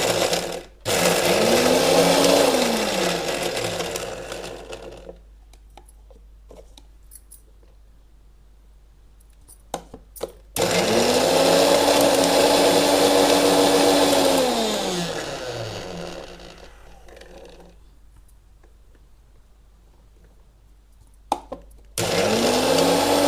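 Kitchen mixer grinder coarsely chopping vegetables for thalipeeth, whirring loudly in two bursts of roughly five seconds each, its pitch dipping and rising as the load shifts, with quiet pauses and small clicks in between.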